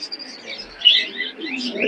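A pigeon at a busy pigeon market in Khulna gives soft chirps and cooing calls, close by, over a steady background murmur of the market.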